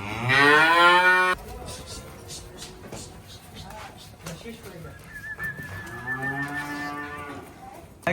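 Fleckvieh cattle on a farm let out two loud, drawn-out moos, one at the start and another near the end, with quieter farm noise between.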